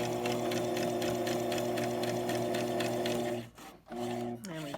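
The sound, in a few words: sewing machine stitching fabric face mask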